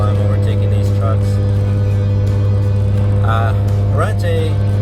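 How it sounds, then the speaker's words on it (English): Audi B8.5 S4 speeding up on a highway to overtake trucks, a steady loud engine drone and road rumble filling the cabin, with a rising rev swell near the end. "I have to speed up here a little bit while I'm overtaking these trucks."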